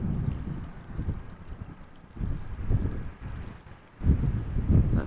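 Gusty crosswind buffets the microphone beside the runways at Amsterdam Schiphol Airport, a steady low roar that swells into stronger gusts around the middle and again near the end, with no one speaking.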